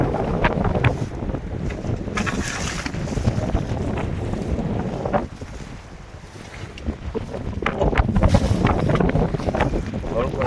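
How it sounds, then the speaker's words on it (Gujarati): Strong wind buffets the microphone on a fishing boat at sea, a steady rushing roar with gusty swells and water noise, while voices talk faintly beneath it. "કેમ છે પવન સાજીદભાઈ?"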